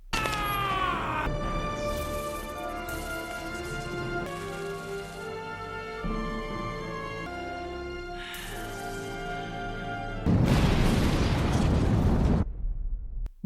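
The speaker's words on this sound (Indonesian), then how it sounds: "Dan bam, kereta pun meledak dan hancur, lepas kaca balau." Train blowing up in a film scene, heavy booming blasts and bursts layered with dramatic music, building to a loud, dense roar of debris near the end before cutting off.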